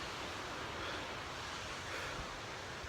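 A waterfall on a mountain hiking trail up the Imbachhorn, heard as a steady, continuous broadband rush of falling water without a break, fairly distant and even in level.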